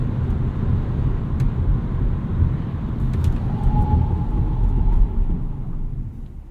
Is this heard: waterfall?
no